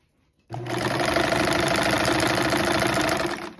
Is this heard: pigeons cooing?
no